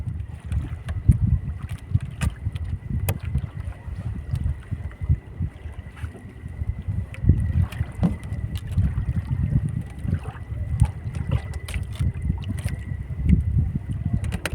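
Wind buffets a small fishing boat out at sea, making a steady, low, rumbling roar with gusty swells that runs the whole time, with no voices.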